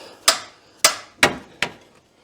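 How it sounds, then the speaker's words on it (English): A big crescent wrench strikes an engine fan nut on an LS L96 engine four times, sharp metallic taps spaced about half a second apart, close and clear with no talk. "we've got our big crescent wrench, give it a couple taps, the fan will break free"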